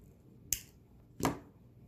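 Wire snipped with cutters while making woven loop earrings; two sharp, close clicks about three-quarters of a second apart in a quiet room.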